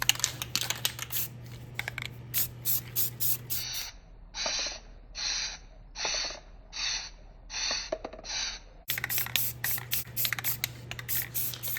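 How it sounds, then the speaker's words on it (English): Short hissing bursts of an aerosol can spray a light coat of self-etch primer onto a fresh air vent door, about seven spurts in an uneven rhythm, close and clear, with a low hum before and after. "I'm going to put a light coat of self-etch primer down"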